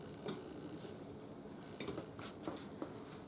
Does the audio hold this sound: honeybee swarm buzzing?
no